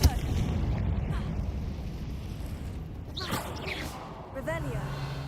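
A Confringo blasting spell goes off in the video game Hogwarts Legacy, giving a brief burst about midway through a steady bed of game sound and music.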